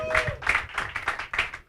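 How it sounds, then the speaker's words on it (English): Audience clapping to welcome a speaker at an annual staff conference, a brief spell of moderate applause with a pulsing rhythm, fairly close. "Come on, let's make that applause better."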